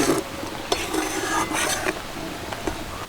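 Raw mango pieces being mixed with salt in a pan while making sweet mango pickle, with close scraping and stirring strokes against the metal and small clinks in an uneven rhythm, alone without talk.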